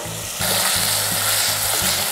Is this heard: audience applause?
no